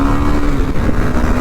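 A KTM Duke 390 motorcycle on a ride, its engine giving a loud, steady drone with rumbling low-end noise for a moment. No speech is heard over the engine.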